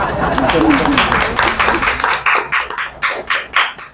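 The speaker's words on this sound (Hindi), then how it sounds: "तो ज़ोरदार तालियां खाने वाले तरबूज के लिए" An audience claps at a comedic property Q&A show, with a burst of scattered applause building into sharp, distinct claps, loud and close, while a voice talks over the start.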